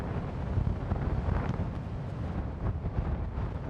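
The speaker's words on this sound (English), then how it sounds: "Whoa, that was a bit of a gust." Gusting wind buffets the cliffs of Scotland's north coast near Scrabster, a continuous low roar and rumble pressing on the microphone with small surges, loud and unbroken throughout.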